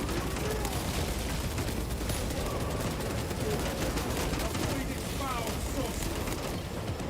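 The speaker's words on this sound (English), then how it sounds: "Good thing I switched to the plasma rifle" Plasma rifle firing in Space Marine 2 video game amid a dense, continuous wall of gunfire and explosions, loud and unbroken, with someone talking over the combat.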